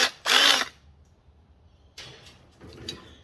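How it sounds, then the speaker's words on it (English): A power drill runs a step drill bit back through the reverse side of a drilled hole to deburr a bracket for a Toyota Hilux tub chop, two or three short whirring bursts separated by quiet gaps. "the thing about these step drills, go back in the other side."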